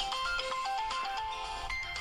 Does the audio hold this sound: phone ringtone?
yes